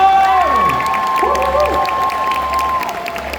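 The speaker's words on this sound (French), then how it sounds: "Je vous demande de faire un tonnerre d'applaudissements pour Alexandre Gilet, qui joue du" A crowd at a Geek Days convention panel in Lille claps and cheers loudly, with shouts and whoops rising over a dense wash of applause.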